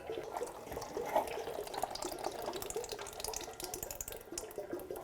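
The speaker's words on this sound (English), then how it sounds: "Let this drain completely until it's down to a drip." Motor oil drains from a 2001-2006 Chevrolet Silverado with a 6.0L engine, a continuous splashing, trickling pour into a pan, close and steady with small irregular spatters.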